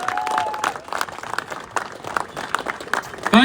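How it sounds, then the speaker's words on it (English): At a rally for farmers, a crowd breaks into steady applause, dense clapping at moderate distance, with a brief voice at the start and louder cheering rising at the end. "Let's give Paul a large round of applause for Paul."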